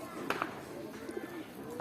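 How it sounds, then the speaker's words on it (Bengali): Soft coos from a pigeon, with the male bird close at hand, come in a few brief calls over a steady background while someone speaks nearby. "আর এটা নর কবুতরটা।"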